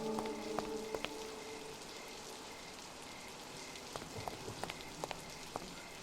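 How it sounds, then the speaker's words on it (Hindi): Heavy rain pours steadily as a dense, even hiss, with scattered sharper drip-like ticks and clicks over it and no talking. "अरे बाबा, एकदम घमासान बारिश हो रहा है।"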